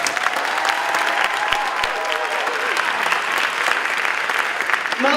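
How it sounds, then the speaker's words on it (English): Families at an eighth-grade STEM academy graduation clap for the graduating scholars, a steady, full round of applause with faint voices and a tone drifting beneath it. "let's just give them another round of applause"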